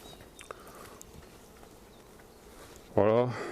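A honeybee colony hums faintly and steadily during a spring hive inspection, a low buzzing bed that carries on until a voice cuts in near the end.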